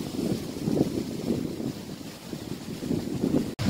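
Wind gusts and choppy waves splash against the shore of a reed-lined estuary near Ovidiopol in the Odesa region, a rough, rumbling wash with wind buffeting the microphone and no voices.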